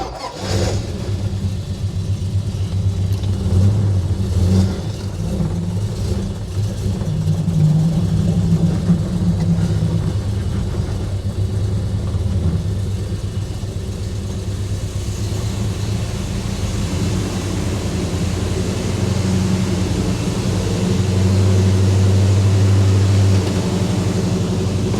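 Car engine running steadily after a new carburetor is fitted and tuned, a loud continuous idle with slight rises in revs throughout, close by and with no talking.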